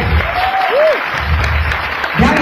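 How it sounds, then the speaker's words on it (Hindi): A crowd at a flash mob performance claps loudly and continuously, sustained applause filling the whole moment with no break. "इस बार जोर से तालियों के साथ स्वागत करिए।"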